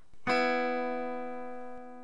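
Two guitar strings are plucked together as a single chord that rings out and slowly decays, with a faint click near the end.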